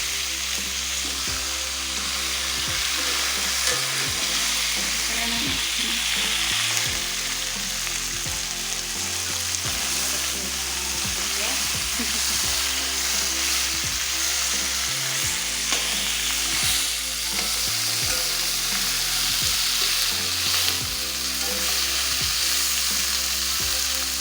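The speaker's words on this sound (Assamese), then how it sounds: "মাছটো গুড়াতে ভাজি ল'ব" Fish fries steadily in a hot pan for a home-cooked mati mah dish, a continuous loud sizzle with occasional stirring and clatter, no voices.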